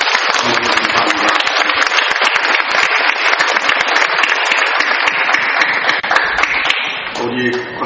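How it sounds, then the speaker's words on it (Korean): An audience of churchgoers claps loudly to welcome a guest, dense sustained applause running without a break before it fades near the end, with some speech audible. "우리 박수로 환영하겠습니다."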